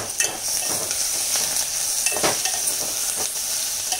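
Onions sizzle in a pan, a continuous bright hiss with soft stirring taps and scrapes throughout.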